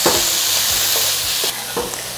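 Diced red bell pepper and green peas are stir-fried for pineapple fried rice, with a loud close sizzle broken by rhythmic spatula scrapes and tosses about every quarter second.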